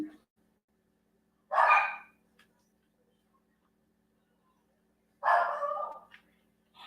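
Dogs barking in two short bursts, one early and one late, separated by near silence; fairly close and clear, with no talk over them.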